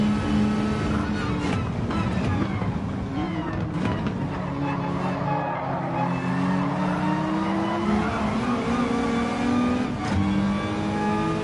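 A race car engine in a racing video game revs continuously and loud near its limit, with pitch rising and falling through gear changes and faint tire squeal, steady throughout with no talk.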